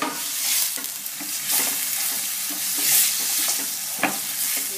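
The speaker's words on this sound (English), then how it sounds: "We put that in and we mix it well together." Cinnamon is stirred into softened onions in a pan, with a steady frying sizzle and irregular spoon scrapes and taps, close and without talk.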